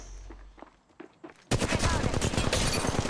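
Gunfire in the Apex Legends Mobile video game, a few soft footsteps then a sudden dense burst of rapid automatic shots filling the rest of the moment.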